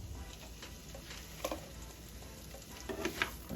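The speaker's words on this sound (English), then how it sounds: "we're going to go ahead and add in the sugar snap and the carrots" Sugar snap peas and carrots frying in oil in a pan, giving a quiet, steady sizzle with a few soft stirring clicks and taps near the end.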